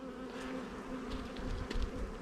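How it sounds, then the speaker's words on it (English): Honey bee nurse bees buzz in a hive, a dense, steady, close drone of many wings swelling slightly, with no voices. "So we need a couple of frames of nurse bees. We're going to shake them into this box"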